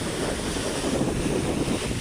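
Strong wind buffeting the microphone at a seashore where a boat sits, with waves washing in underneath, a loud steady roar with no voices.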